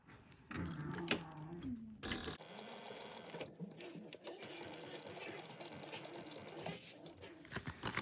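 A sewing machine stitches D-rings onto zipper tape, close and fairly quiet, in several short runs of rapid mechanical whirring with brief pauses between them.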